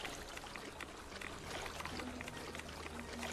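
A container is filled with dirty water in the Fallout 76 video game, a faint, steady pouring and trickling wash that runs without a break.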